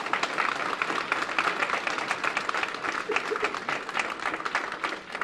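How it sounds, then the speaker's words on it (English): An audience applauds at a ribbon cutting ceremony for an affordable senior housing building, a dense, continuous patter of many hands clapping at moderate distance for several seconds. "If that doesn't deserve a round of applause,"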